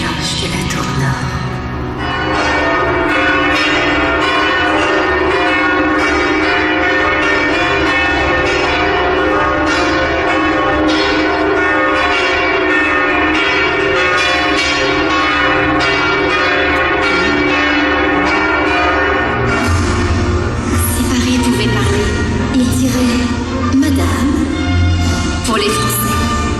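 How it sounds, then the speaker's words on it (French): The bells of the north tower of Notre-Dame de Paris cathedral peal continuously and loudly in layered, overlapping tolls that ring throughout, with a deeper bell entering near the end. "à l'appel des cloches de la tour nord"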